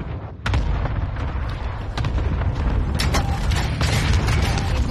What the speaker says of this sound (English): Here's the target for airstrike. Losing ground. Movement. Got your request. Cluster strike is active.